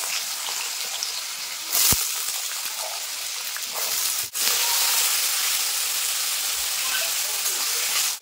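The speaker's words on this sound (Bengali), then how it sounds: "সরষের তেল দিয়ে দেবো কড়াইতে। তো দেখো বন্ধুরা, তেল গরম হয়ে গেছে। এবার আমি আলুগুলো ভেজে নেবো।" Potatoes frying in hot mustard oil in a wok, a loud steady sizzling hiss with brief bursts of crackle, continuing throughout at close range.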